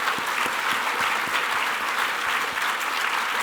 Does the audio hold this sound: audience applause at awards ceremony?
yes